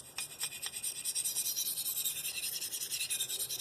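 Spyderco Paramilitary 2 knife with an S30V blade drawn in light reduction passes across a DMT Diafold ceramic stone, giving a steady, close, continuous high rasping scrape with a few sharper strokes near the start and no talking.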